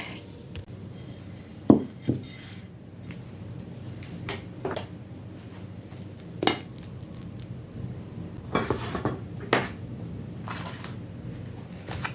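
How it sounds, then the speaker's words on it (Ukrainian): Boiled potatoes and marinated crucian carp spooned into a bowl, with scattered clinks and soft thuds of utensils against dishes, a few sharper knocks standing out over a quiet kitchen background. "картоплю можна насипати і рибку у миску накладати"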